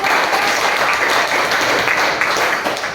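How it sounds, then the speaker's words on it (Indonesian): A short burst of dense clapping from a class group fills the room, loud and steady for a few seconds before tapering slightly. "Oke, tepuk tangan."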